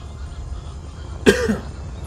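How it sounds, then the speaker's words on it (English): One short, sharp cough from a person close by, standing out briefly above a quiet background hum. "Sorry for the coughing."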